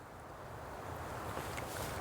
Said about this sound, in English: the wind is pretty rough